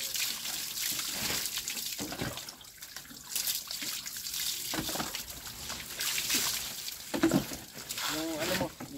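Water is poured and splashed while a child is bathed at home. Irregular splashes and trickles come close and fairly loud, under frequent talking.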